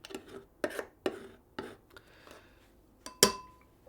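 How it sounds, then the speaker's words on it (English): Metal scraping on an aluminium can to strip its oxide layer, heard as several short, sharp scratching strokes at an uneven rhythm, close and fairly quiet, with one louder rasping scrape near the end. "So I need to scrape away the oxide layer and that will let the gallium eat into"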